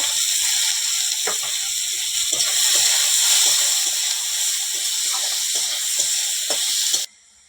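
Chopped onion frying in hot oil for a home chicken curry gives a steady, close hiss and sizzle with faint scattered clicks, running without talk and cutting off abruptly near the end.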